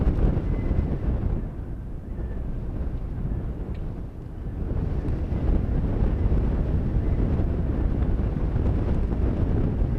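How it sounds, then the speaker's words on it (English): Strong wind gusts buffet the microphone with a low roar at an outdoor high school baseball game, dipping briefly and then surging back steadily. "Again, serious gusts of wind."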